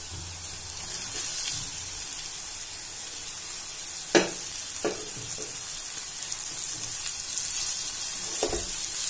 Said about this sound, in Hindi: मिक्स करते हुए हमें इसे भी 10 मिनट भूनना है।